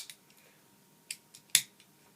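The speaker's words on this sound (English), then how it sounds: "it is a little different when folding and deploying the jaws." A Leatherman Crunch multitool's locking pliers jaws are folded and deployed, producing a few faint, sharp metallic clicks and snaps spaced irregularly over quiet background.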